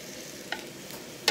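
Carrot galette batter sizzles softly in a hot iron skillet, a faint continuous hiss broken by two brief, sharper crackles of spattering fat.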